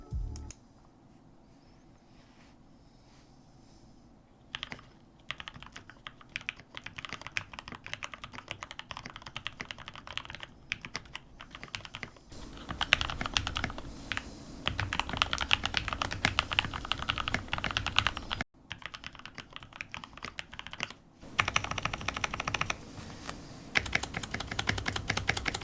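Typing on an NK65 Entry Edition mechanical keyboard, a steady patter of clicky keystrokes close up, with a couple of short pauses between bursts.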